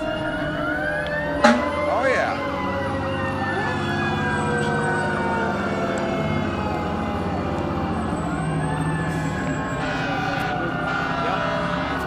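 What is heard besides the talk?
fire engine siren in a parade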